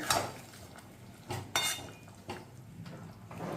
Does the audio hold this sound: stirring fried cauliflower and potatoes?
yes